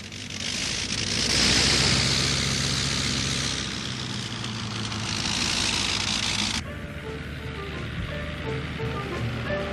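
A Sikorsky aircraft engine roars loudly and close through landing, a broad rushing drone that swells and eases before cutting to a lower, steadier hum with a faint tonal whine.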